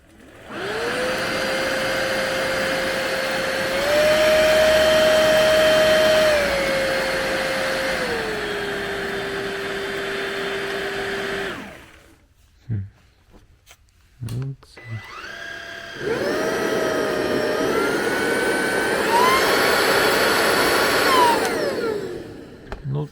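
A vacuum cleaner motor whirs loudly for about eleven seconds, cuts off, then starts again after a short pause and runs at a slightly shifting pitch.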